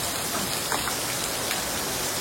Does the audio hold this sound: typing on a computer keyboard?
no